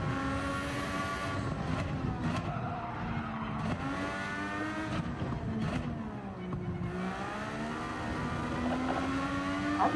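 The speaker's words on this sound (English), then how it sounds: "I'm pushing the car as loud as I can" A race car engine from Gran Turismo 7 in World Touring Car 900 endurance racing screams loud and continuous, pitch rising and dropping through gear changes, with tires squealing through corners.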